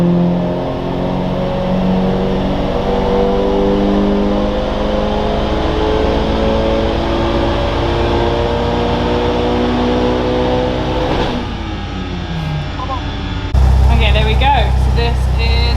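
A Mitsubishi Evo 6 turbocharged engine revs hard on a dyno in a loud, sustained, rising roar that drops off near the end before a final louder burst.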